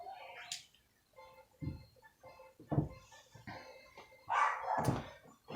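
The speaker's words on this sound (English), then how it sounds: "And there goes the dogs again." Several dogs bark in short bursts at moderate distance, a few separate volleys spread across the stretch with quieter gaps between, the last burst louder and more sustained.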